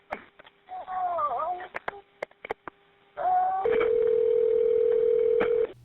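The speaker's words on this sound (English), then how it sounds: "That ringing is the line for the fire department's dispatch center." Telephone line tones and a long steady electronic ring on a fire department dispatch center line, preceded by brief tones and clicks, with a voice speaking near the start.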